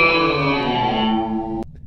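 Sustained guitar tones through a DIY 99 DSP reverse reverb pedal, swelling and washing together in a thick reversed-reverb haze, then cutting off abruptly near the end.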